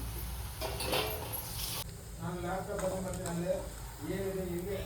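Boondi batter sizzles in hot oil for a snack mixture, a steady close frying hiss throughout with a stirring scrape, while someone talks over it in Telugu.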